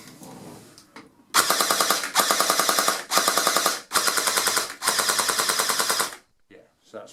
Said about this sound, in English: as we pull the trigger, that's shooting smooth, and that's not missing either